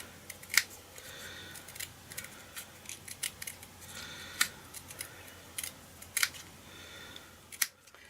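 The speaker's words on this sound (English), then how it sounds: "Punch out another label, cut this in half, just follow the curve" Scissors cut a paper label in half along a curve for a handmade card, a series of crisp, close snips at an uneven pace with short pauses between them, quiet and with no talking.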